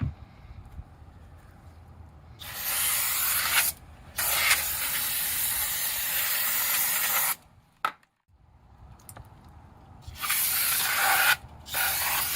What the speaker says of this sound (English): we're going to take and do a little brake cleaner on this to get rid of any oil